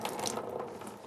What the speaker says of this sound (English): Squeezing with my hands, trying to get as much water out as possible.